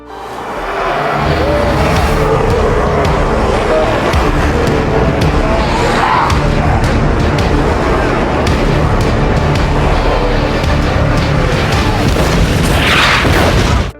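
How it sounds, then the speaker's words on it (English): A loud, sustained roaring blast from a massive explosion in a Resident Evil film, with heavy low rumble and crackling debris that fills the whole stretch without letup. "The massive explosion cleared a path for them"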